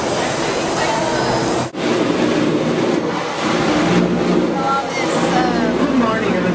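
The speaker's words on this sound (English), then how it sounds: "My experience with the subway here in Singapore." Inside a clean Singapore subway train in motion, a steady loud rumble and rail hiss fill the car with a brief dip partway through, faint clicks over the rails, and people talking beneath the noise.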